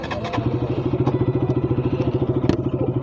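A KTM RC 200 motorcycle engine while riding, a close, loud single-cylinder putter with a fast, even pulsing beat and a few sharp mechanical clacks.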